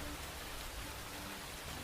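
Steady rain falling, a dense, even hiss of broadband noise that fills the short clip without breaks.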